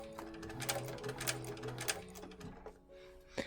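Sewing machine stitching a bag: a quiet, rapid mechanical chatter in short bursts with brief pauses between runs, heard up close.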